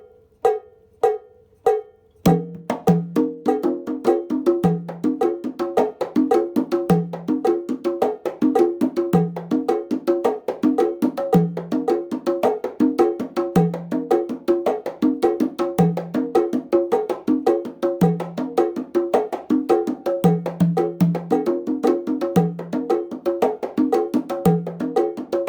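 Conga pattern played at a clean, steady tempo that shifts between a straight four feel and a twelve feel, beginning with a few isolated hits and then running as a continuous close, dry groove.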